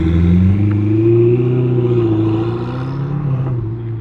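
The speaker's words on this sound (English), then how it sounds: "Oh yeah, I can really hear the turbos." A loud turbocharged Ferrari 488 engine with a Novitec exhaust drones and revs steadily, a deep sustained roar with a slight rise and fall in pitch.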